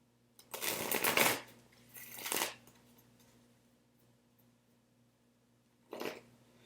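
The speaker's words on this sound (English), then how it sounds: "I've already shuffled them off deck, but shuffle them a few times here." A deck of Energy Oracle cards is riffled and shuffled in two close bursts, a longer one then a shorter one, with a brief third flutter after a pause, and no one talks.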